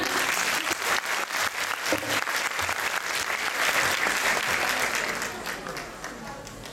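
Steady applause from an audience at a kindergarten performance in Veles for small ballerinas, a dense continuous clatter of many hands that holds strong for several seconds before easing slightly toward the end.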